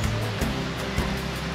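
A river in Cumbria rushing steadily along a walking path, a continuous broadband wash of flowing water, fairly close and alone without talk.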